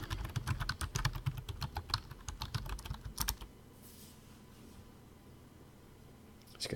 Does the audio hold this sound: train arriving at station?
no